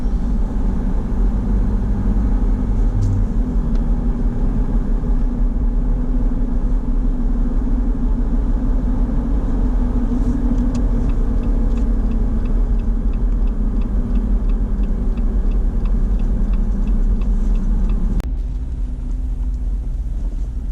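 A 4x4 Toyota FJ engine grinds steadily up a steep mountain trail in Colorado, producing a loud, continuous rumble with a low drone that barely changes for about eighteen seconds before easing slightly.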